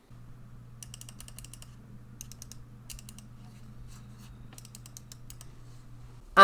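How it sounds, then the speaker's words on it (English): Razer Viper Mini gaming mouse buttons click in quick, faint bursts of several presses each, separated by short pauses, over a steady low hum. "here's a sound test of the clicks on the Razer Viper Mini"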